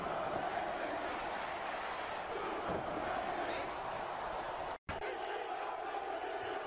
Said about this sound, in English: You can hear the crowd chanting Super Crazy